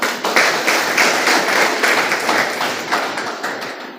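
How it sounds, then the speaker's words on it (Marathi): Audience applause at a university inauguration ceremony, a dense wash of hand clapping in rhythmic bursts, loud and sustained throughout without talk. "तुमच्याकडे एकदा जोरदार टाळ्या"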